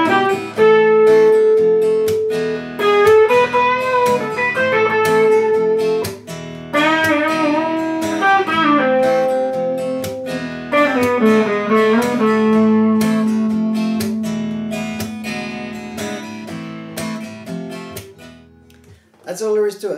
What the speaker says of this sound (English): Here's the riff all the way through.